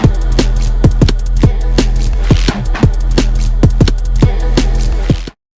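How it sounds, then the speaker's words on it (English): A synthesized bass patch shaped with EQ plays a run of punchy, evenly spaced notes over a heavy sustained low drone, loud and alone, cutting off abruptly at the end. "Okay, so we've got an interesting like bass patch."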